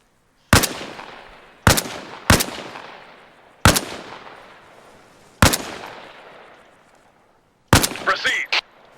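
Six sharp rifle shots in the video game Arma Reforger, fired from a prone position at an uneven pace, each a loud crack with a long echoing tail; the last shot is followed by a brief clatter.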